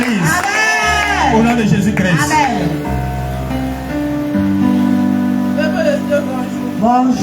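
A church congregation cheers and acclaims in loud, dense crowd noise, with shouting voices and sustained tones running throughout.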